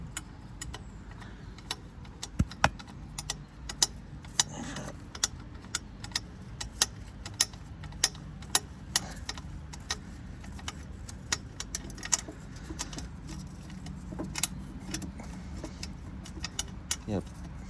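Bolts being tightened on a Ford Focus RS Mk1 exhaust manifold, a long run of quick metallic clicks and ratcheting ticks scattered at an irregular pace, close by, with voices talking intermittently over it.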